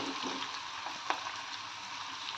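Food spluttering and sizzling in hot oil over a high flame in a home kitchen, a steady crackling hiss with one sharp pop partway through, close and fairly quiet, with no talking.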